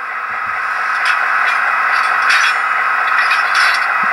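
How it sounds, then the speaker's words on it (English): Hissing, staticky rush of air with a few sharper clanks and bursts spaced across a few seconds, as an HO scale Intermountain SD40-2 model locomotive's sound decoder plays couplers knocking and air hoses pulling apart. "That's a coupling, and then here's the air hoses pulling apart."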